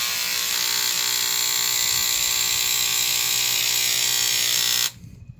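Hamilton Beach Century Special electric scissors cutting fabric with a steady, close, buzzing motor whine that runs unbroken for about five seconds and then stops abruptly, leaving only faint handling noise.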